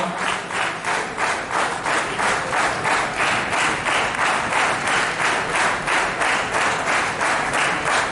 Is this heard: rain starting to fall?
no